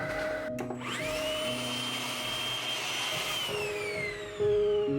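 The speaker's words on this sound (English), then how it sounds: "Vacuum." A vacuum cleaner runs steadily at close range, its whine rising as it spins up and holding a loud, continuous drone, with a brief thump near the end.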